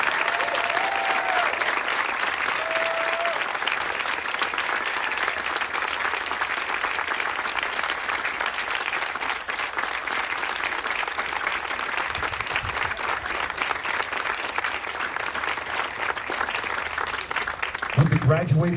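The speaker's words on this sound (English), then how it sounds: "please give a big round of applause for the graduating family medicine residents of" A graduation audience applauds the family medicine residents of 2021 in long, continuous clapping that holds steady for many seconds, with brief whistles early on and voices rising near the end.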